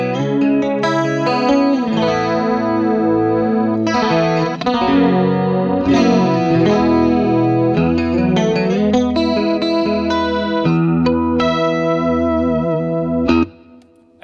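A clean electric guitar with a shimmering chorus effect from a Corona chorus pedal plays chords and arpeggios, steady and fairly loud, ringing out before fading near the end.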